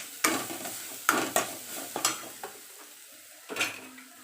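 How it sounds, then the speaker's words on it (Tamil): A spatula clinks and scrapes against a frying pan in sharp separate strokes, about half a dozen of them, over a soft sizzle while ingredients are sautéed in a home kitchen. "நல்லா வதக்கி விட்டுக்கணும்."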